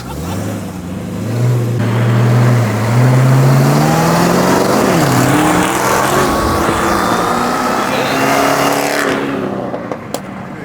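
Cadillac CTS-V accelerating hard at a car meet, the engine note rising loudly as it passes fairly close, then fading off into the distance.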